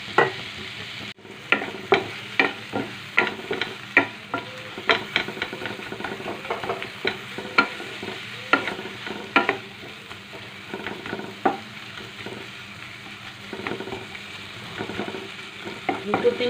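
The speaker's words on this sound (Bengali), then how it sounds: "সব কিছু দিয়ে মশলাটাকে ভালো করে কষাবো" Spice paste with ginger paste for fish curry frying in a pan, a steady sizzle broken by repeated sharp scrapes and knocks of stirring, close and alone.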